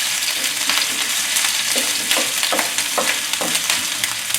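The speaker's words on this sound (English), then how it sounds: "Give them a little gentle stir." Bell pepper and string beans sizzle steadily in a hot pan, with a soft scrape of stirring every half second or so cutting through the continuous frying hiss.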